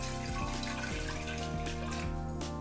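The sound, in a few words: pouring water into a fermenter to prime it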